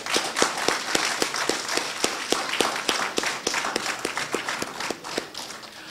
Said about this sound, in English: a resounding round of applause to both of them.